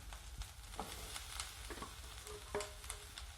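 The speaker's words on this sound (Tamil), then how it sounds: "வெங்காயம் நல்லா வதங்கினதும் நம்ம வேக வச்சு எடுத்து வச்சிருக்க சக்கரவள்ளி கிழங்கு அதில் சேர்த்துக்கலாம்." Boiled sweet potato stirred into fried onions in a hot pan for sweet potato puttu, giving a steady close sizzle with repeated scraping stir strokes throughout, no voices.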